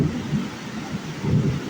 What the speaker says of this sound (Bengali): বৃষ্টি তো হচ্ছেই, তার সাথে সাথে বিশাল গর্জন হচ্ছে।